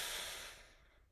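A single long, airy breath exhaled out through the mouth during a guided breathing exercise, soft and close, fading away to near silence.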